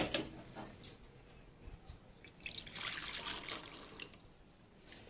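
Hot water poured from a container into a bowl of maida flour mixed with sugar and baking powder, a soft close trickle and splash that swells midway and then tapers off.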